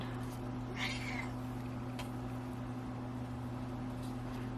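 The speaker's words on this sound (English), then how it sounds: "Please ignore the screaming cat." An old cat cries out once in a brief, strained yowl, heard at moderate distance over a steady low electrical hum in an indoor craft room, followed by faint clicks.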